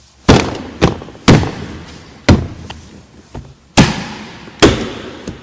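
Knocking an Audi A3 S3 2.0 TFSI door trim panel into place: six firm, close hand thumps on the plastic panel in an uneven rhythm, each sharp with a brief hollow ring, alone without talk.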